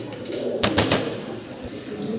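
Pigeons coo softly in low, throaty murmurs, with a brief flutter partway through.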